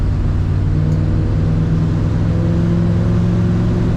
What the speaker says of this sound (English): There's that rumble when you get on the exhaust.